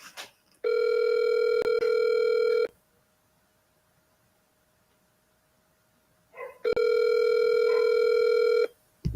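An outgoing phone call rings with two long, loud electronic ring tones separated by a few seconds of near silence, each tone steady and close, before the line goes to voicemail.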